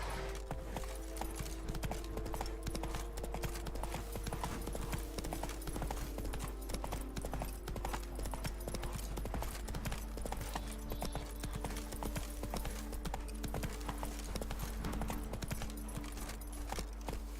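Horse hooves clip-clop steadily through the whole stretch in The Witcher 3: Blood and Wine, a continuous even trotting rhythm over a constant low game ambience with music-like tones, no talk.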